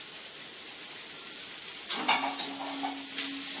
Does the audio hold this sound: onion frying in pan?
yes